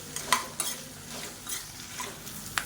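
Urad dal and chana dal dry-roasting in a pan, stirred with soft scraping sweeps and a few sharp clicks against the metal over a faint sizzle, close and quiet, with no talking.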